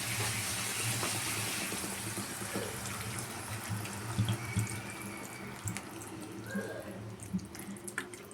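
Water poured into a cooking pan holding pumpkin leaves: a continuous splashing, hissing stream with small gurgles and drips, fairly faint and close, with no voices.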